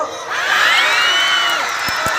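A crowd shouts a loud, rising cheer together at a fiesta for the Poong Jesus Nazareno at Quirino Grandstand. The cheer rings close and sustained for about two seconds and ends with a couple of sharp thumps.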